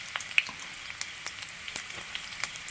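Black peppercorns drop into a hot pan for a Kerala-style vegetable stew, setting off a light, steady sizzle with scattered small crackles and pops, close and fairly quiet, with no voices.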